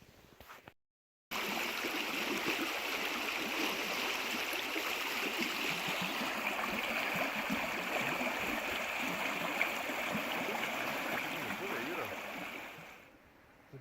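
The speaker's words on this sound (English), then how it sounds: "there's the river" A river rushes in a steady, full broadband flow close by on a sunny-day hike, starting abruptly after a brief gap and continuing evenly before fading at the end.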